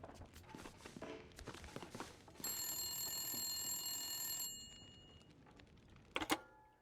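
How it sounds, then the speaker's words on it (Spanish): Telephone ringing in The Long Dark, a single bright ring burst in the middle of quiet ambience, with faint footsteps and a short clatter near the end. "Teléfono."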